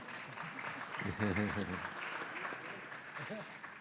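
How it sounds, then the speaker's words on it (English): Applause from people in a congressional committee hearing room makes a soft, steady patter, with voices talking over it. "can applaud."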